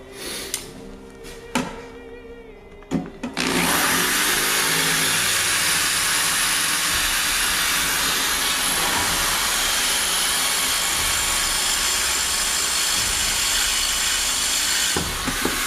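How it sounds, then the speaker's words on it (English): A power drill bores through a steel saw blade. A few sharp knocks and clanks come first, then a loud, harsh, continuous grinding whine holds steady for about twelve seconds before stopping abruptly. "This whole video is literally just me drilling through a saw blade."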